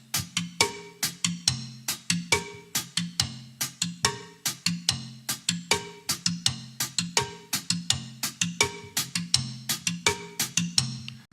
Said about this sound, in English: The first one on the rim of tom 2 and the second one on the cowbell.